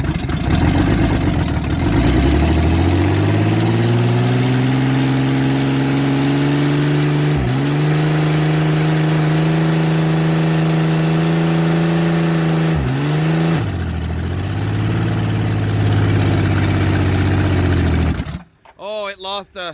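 A car engine running on brake cleaner spray, revving up and then holding a loud, steady, strained drone close by with a couple of brief dips, before cutting out abruptly near the end.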